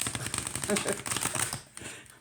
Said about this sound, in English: I will attempt to do a bridge shuffle